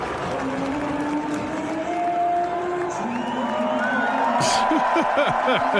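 Ottawa Senators hockey fans in an arena roar and cheer loudly during O Canada, a dense sustained crowd din with whoops, rising toward the end.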